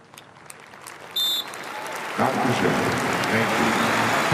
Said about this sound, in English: some fans breaking out into applause there